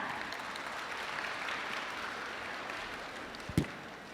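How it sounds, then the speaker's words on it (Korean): A lecture audience attending a university essay-exam information session claps in a soft, steady, distant patter of many hands, with one louder bump near the end. "여러분 박수 부탁드립니다."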